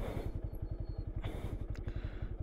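A motorcycle engine idling on a village road, a steady low pulsing throb close by that runs on evenly without being shut off.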